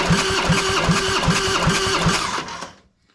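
Cold motorcycle engine cranking over on the starter during a rear-cylinder compression test, about six rhythmic, evenly spaced compression pulses over a whirring starter, then it stops abruptly.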